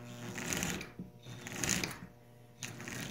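A Marx single reduction model train motor runs in reverse, giving a faint, whirring mechanical rattle that rises and dips in short bursts, heard close and alone.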